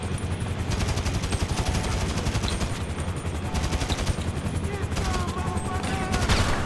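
Dense, continuous automatic gunfire from a Grand Theft Auto V shootout, rapid bursts layered over one another at steady high loudness for several seconds, with a faint voice underneath.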